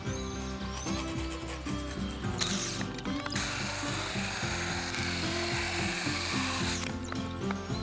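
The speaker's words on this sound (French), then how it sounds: "On va juste percer des ouvertures qui formeront l'accès au pondoir pour rendre tout cela plus intime." Wooden panels for a chicken coop are drilled to cut openings, a steady mechanical power-tool whir with ratcheting, grinding texture running throughout, close and loud with no talk.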